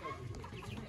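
Chickens cluck in a short, quiet burst, soft and somewhat distant, with no talking over them.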